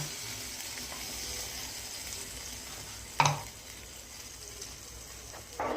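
Curry leaves, asafoetida and a ground paste go into hot oil in a pan, giving a soft steady sizzle with a sharp burst of spattering partway through and another flare near the end.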